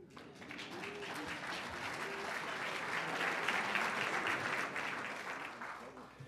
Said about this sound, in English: Kurt Brown has about the largest cheering section here.